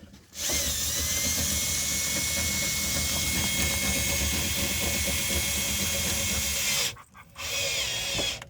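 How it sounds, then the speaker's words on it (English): A cordless drill whines steadily for several seconds while setting up a chuckwagon, cuts out briefly, then spins up again close by. "I found it easier to use a cordless drill."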